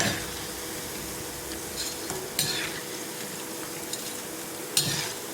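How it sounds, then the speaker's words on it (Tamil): Spinach pakoda deep-frying in hot oil gives a steady crackling sizzle, close by, with a few sharp metal ladle clinks against the pan as the fritters are stirred and turned. "நல்லா திருப்பி விட்டு நல்லா கோல்டன் ப்ரௌன் ஆற வரையும் வேக விடணும்."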